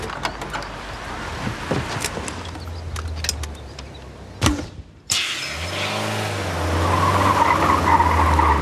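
A car in a military patrol scene skids in with a sharp tire screech and a burst of engine noise, followed by a sudden impact-like crack and a louder, sustained engine rumble as it draws close.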